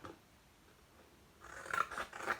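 Scissors cut cardboard for a puppet bird's wing: after a near-silent pause come three or four crisp snips close by, with no talk.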